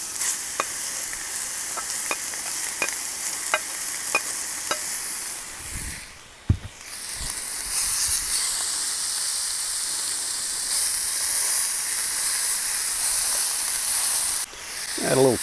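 Ground hamburger meat sizzles steadily in a hot pan, a close, continuous bright hiss of frying with occasional stirring scrapes and one sharp knock partway through.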